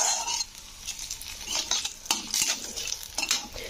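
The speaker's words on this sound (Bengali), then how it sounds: "তো আমি ওভেনটা কিন্তু কমিয়ে ফোড়নগুলোকে ভেজে নিচ্ছি।" Whole spices fry in oil over lowered heat, a soft sizzle broken by close clinks and scrapes of a metal spoon against the pan, with no voices.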